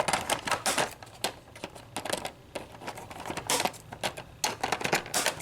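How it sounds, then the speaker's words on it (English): Scissors make a couple of quick snipping cuts to free a Transformers Thrilling 30 Springer figure from its packaging. The cuts are crisp and close, and clustered clicks and rustles come in irregular bursts with no talking. "And to get Springer cut out of his packaging. Couple little snips."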